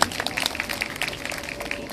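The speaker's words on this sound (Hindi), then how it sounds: "इनके लिए जोरदार तालियां बजाई है।" An audience gathered for a Bhagwat saptah religious discourse in Delhi claps rapidly and unevenly, a moderately loud round of applause.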